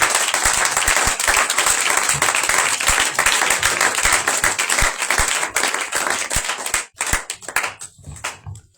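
A church congregation at a Sunday service bursts into sustained, loud applause and clapping with scattered acclaiming voices, dense and continuous before thinning out toward the end.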